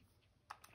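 Calculator keys pressed while entering a quadratic function in table mode: a few quick, soft plastic clicks in a short, quiet moment, with no talking.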